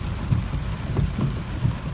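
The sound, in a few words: heavy rain with thunder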